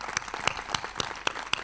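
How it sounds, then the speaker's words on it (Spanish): An audience at a motorsport event claps for a Paralympic swimmer, with sharp, fairly sparse individual claps ringing out in an irregular rhythm, close and moderately loud, no talk over them. "le diera un gran aplauso a nuestra nadadora Michelle Alonso"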